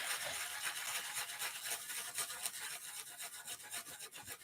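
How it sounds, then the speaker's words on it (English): A cheap, large bristle brush scrubs dried salt flakes off a watercolour painting of an owl, making a steady, close rasping scrub in quick repeated strokes, with no voices. "Oh, I've also got a big bristle brush."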